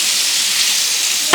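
Tomato dropped into a hot frying pan gives a loud, bright, steady sizzle that hisses throughout, with a brief clatter at the very end.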